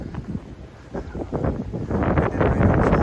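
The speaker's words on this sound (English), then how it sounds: "I'm getting near a ridge and it blows pretty hard. Must have heavy gusts." Wind gusts buffet the microphone on an Appalachian Trail ridge in rough, uneven bursts that build and grow louder toward the end.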